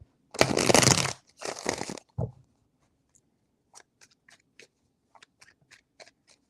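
Tarot cards shuffled in a few loud close riffles at the start, followed by a series of soft scattered taps and clicks as the deck settles.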